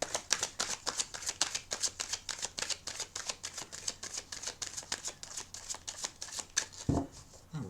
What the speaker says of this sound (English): I'm going to put one more shuffle and rifle on these.